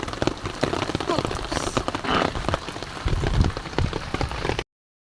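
Heavy rain pours steadily onto surfaces beside a river, a dense continuous hiss with spattering drops throughout, fairly loud and unbroken, with faint murmurs of voices mixed in.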